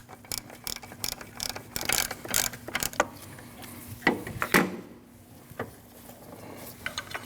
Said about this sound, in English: Now you can start tightening down that bolt while holding the bracket in the back.